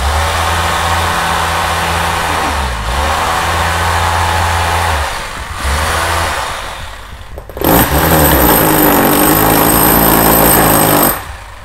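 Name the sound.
hammer drill vibrating wet cement in a bonsai pot mold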